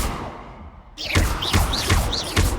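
The Incendio fire spell from Hogwarts Legacy flares up suddenly, followed by a run of roughly five rhythmic whooshing thumps with rising swirls, loud and close over game background noise.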